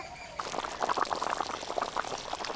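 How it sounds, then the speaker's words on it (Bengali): Fish curry broth boiling hard in a pot close by, with dense, steady bubbling and popping that continues without pause. "ঝোল বেশ ভালো করে ফুটে গেছে"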